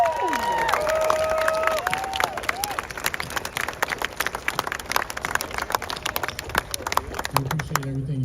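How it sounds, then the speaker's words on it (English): A crowd applauds outdoors at a Buc-ee's grand opening in Mt. Crawford, Virginia, dense clapping mixed with a few cheers and whistles, continuing steadily before a voice begins to speak at the end. "I want to give another round of applause for our first responders"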